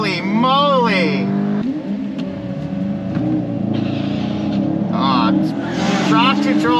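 A JB4-tuned MK8 VW GTI launches at a drag race with its tires spinning. The engine drones loudly and steadily from inside the car while wheel hop and tire noise sound against it, with someone talking throughout.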